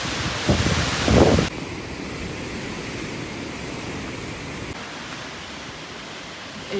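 Gusty mountain wind of 20 to 30 mph on the snowy Appalachian Trail buffets the microphone in a steady roar, with a louder gust and rustling at the start.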